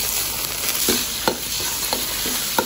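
Light soy sauce poured into a hot stir-fry pan with minced garlic hisses in a steady close sizzle, broken by a few sharp clinks of a spatula stirring.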